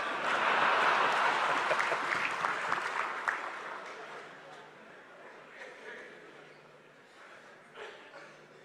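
An audience applauds at a prime minister's speech, a dense burst of clapping that is loudest at the start and fades gradually over several seconds, with scattered claps lingering at the end.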